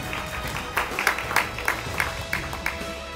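Lively applause rings out at an Indonesian awards ceremony, with rapid overlapping claps and a handful of sharper, louder individual claps standing out from the steady crowd wash.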